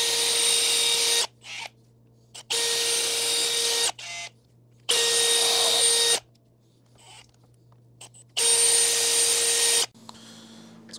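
A machine sizing engine valve guides on a 302 V8 runs in four long, loud, steady whirring bursts, each cutting off abruptly into near silence before the next begins.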